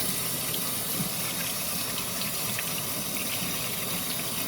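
Cold tap water runs steadily into a sink over a hot boiled egg, a constant close gushing hiss with light splashes, no voices.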